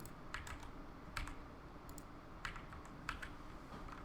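A computer keyboard being typed on in short bursts of light clicking keystrokes with quiet gaps between them, close and fairly soft.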